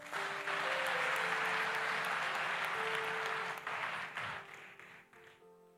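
A church congregation applauds to acclaim Jesus, a sustained wash of clapping that holds steady for several seconds, then thins and fades out, with faint sustained tones underneath.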